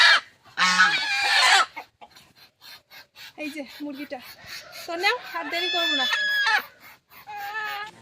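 Desi hens cluck and squawk loudly up close, with drawn-out crowing calls from a rooster, in bursts with short pauses.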